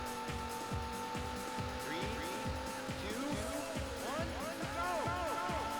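Race cars roar in the video game Daytona USA, played on a Sega Saturn: a steady buzzing engine hum with rapidly repeating revving pulses and rising tire squeals, close and continuous.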